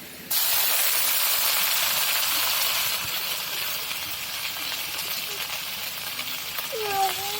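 Water poured into a hot pan of frying spices and onions for a young pigeon curry sets off a loud, steady steam hiss that fills the scene, with a faint voice briefly at the end.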